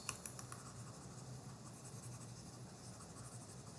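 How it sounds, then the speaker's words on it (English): A free body diagram being erased from a board during a lecture, a faint, continuous scratchy rubbing that carries on steadily, with no talk. "So I'm going to erase this."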